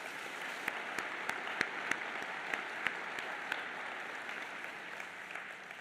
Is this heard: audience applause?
yes